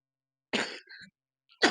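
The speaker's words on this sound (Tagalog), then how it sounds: "Ayan, may ubo pa tayo." A person gives two short, harsh coughs about a second apart, close and dry, with a faint throat rasp between them.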